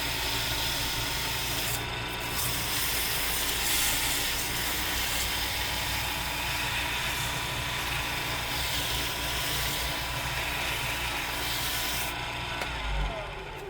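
Fine sandpaper rubs against Chinese elm spinning on a lathe, producing a steady, close, continuous abrasive hiss with a faint mechanical hum beneath and no talking.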